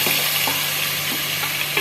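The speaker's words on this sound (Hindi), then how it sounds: "अब सारा जो है चिकन का जो मैरिनेशन गोश्त है वो सब इसके अंदर डाल रहे हैं हम।" Marinated chicken meat sizzles and fries in hot oil in a large pot for a white korma, with steady crackling and a few stirring scrapes, close and continuous with no voices.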